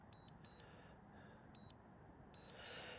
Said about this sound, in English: It's beeping like crazy.